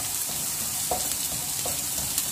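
Tomato and plum chutney cooks in a pan over low heat, giving a steady close sizzle broken by a few soft stirring scrapes, with no voices.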